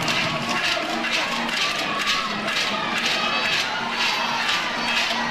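A record crowd of nearly 5,000 at an Oklahoma–Texas college softball game at Love's Field roars and cheers, a broad sustained wash of voices with some higher shouts, steady and loud.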